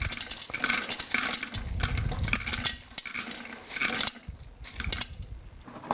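Dried goji berries tipped into a Thermomix TM5 mixing bowl, giving a quick run of light rattling and clinking against the bowl, close and fairly quiet with no talking.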